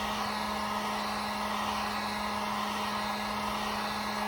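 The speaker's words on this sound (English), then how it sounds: "let me turn off the heat gun" Heat gun blowing hot air steadily near a kerosene lantern burning Klean Strip 1K kerosene, a constant loud whooshing roar with a steady electric hum, unbroken for the whole stretch.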